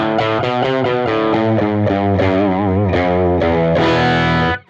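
Low strings of an electric guitar are strummed through a Helix amp model with heavy, boomy distortion, chords ringing loud and thick one after another before cutting off at the end.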